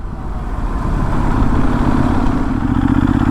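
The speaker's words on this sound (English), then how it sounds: "Very smooth though, lovely smooth motor." The Benelli Leoncino Trail 800 motorcycle engine runs with a smooth, steady, low rumbling drone, close and continuous throughout.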